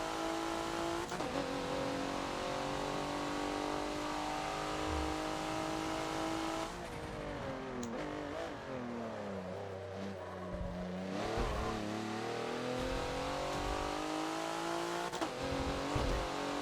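A race car in the Forza video game runs a fast lap at Hockenheimring, its engine droning loud and steady, pitch rising through the gears, dipping on a downshift and climbing again.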